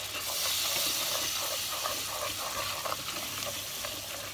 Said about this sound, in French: Il ne faut surtout pas s'arrêter de tourner et mélanger, mélanger.